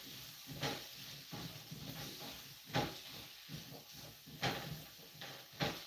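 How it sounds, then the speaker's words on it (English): Food sizzling in a pan while being stirred, a soft steady frying hiss broken by occasional scraping stirs, quiet and close with no talk. "Stir."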